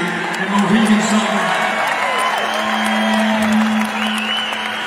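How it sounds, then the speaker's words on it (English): Live concert crowd at Mohegan Sun during a show, applauding and cheering in a steady, dense wash of clapping and shouts that fills the whole stretch, with a sustained tone running underneath. "Big round of applause for them and the local crew putting it in here tonight at Mohegan Sun."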